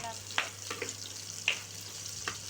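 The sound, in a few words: shallots sautéing in sesame oil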